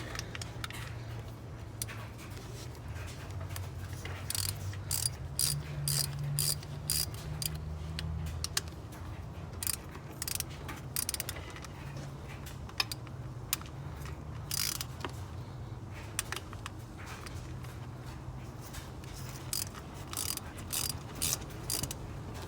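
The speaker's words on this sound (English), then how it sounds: "Now we're going to take off these 2 fasteners, and they're going to both be 10 millimeter." A ratchet removes two 10 mm fasteners under the hood of a 2017 Chevy Colorado Z71, giving quiet, close, intermittent runs of fine clicking over a low background hum, with no talking.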